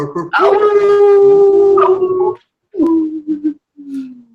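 People imitate a dog howling as part of a blues poem reading, one long wavering howl followed by shorter howling calls, close and loud.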